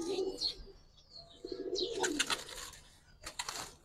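Active pigeons in a loft coo in low, rolling phrases, joined by a few brighter chirps and rustles, all fairly faint and close with no talk over them.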